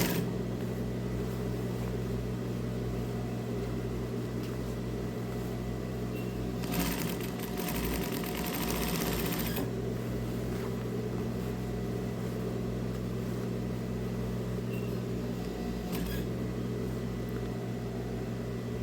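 A sewing machine hums steadily while topstitching children's dress shorts, a close, continuous mechanical whir with a brief louder burst partway through and no talking.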